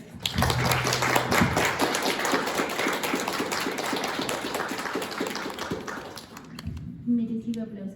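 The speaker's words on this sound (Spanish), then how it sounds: "Merecido aplauso." Audience applause at a book presentation for a volume on Sergio Pitol, a steady dense patter of clapping hands sustained for several seconds, then thinning out as a voice begins speaking near the end.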